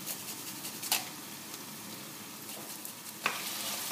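Three cloves of garlic frying in a pan with chicken, a soft continuous sizzle with two brief scraping stir strokes standing out, no voices.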